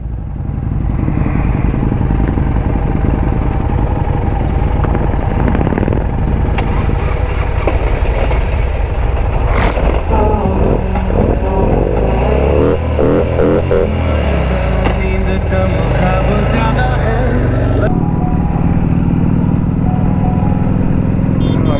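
A Harley-Davidson motorcycle, restarted after stalling while crossing water on an overnight ride near Velavadar Blackbuck Sanctuary, rumbles in a loud, steady idle up close while people talk over it.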